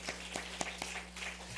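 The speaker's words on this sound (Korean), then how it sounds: "박수 한번 치겠습니다. 박수." A church congregation claps in a faint, rhythmic pattern of evenly spaced claps over a low steady hum.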